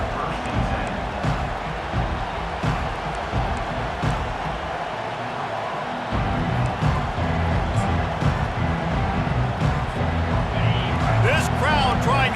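A football stadium crowd roars and cheers in a sustained, loud wash of noise during a home game after a kickoff return, swelling in the latter half while a commentator talks over it.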